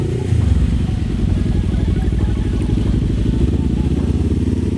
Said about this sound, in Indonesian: 2 silinder segarisnya ini nih gak pernah bisa bedain kalau dari suara doang antara CBR, Ninja atau R25.